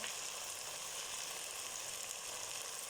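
Whole garam masala spices sizzle steadily in hot oil in a pan, a constant close crackling hiss that stays even throughout with no voices.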